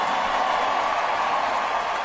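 Rodeo crowd at the Houston Livestock Show and Rodeo applauding and cheering in an arena, a dense, steady roar of clapping and voices throughout.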